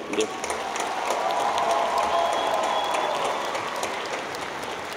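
Applause from an audience at a republican New Year tree celebration: dense, sustained clapping filling the hall for several seconds, with voices mixed into the crowd noise.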